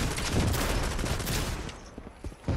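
An automated turret in Fortnite fires a dense, rapid stream of shots, loud at first and then tapering to scattered bursts.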